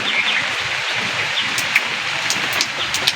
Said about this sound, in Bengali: অল্প একটু পাঁচফোড়ন ফোড়নে দিয়ে দেবো